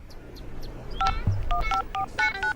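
Telephone keypad dialing tones beep out a number in quick irregular bursts of paired tones, clear and close over a faint background hum, with no talk.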